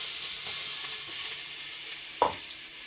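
Garlic and ginger fry in hot oil for a chicken curry, a loud, even sizzle close by with a single utensil knock near the end and no speech.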